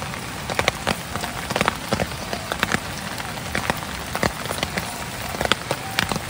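Heavy monsoon rain falls in Konkan as a dense, constant hiss of drops hitting surfaces, punctuated by frequent louder splats and drips close by.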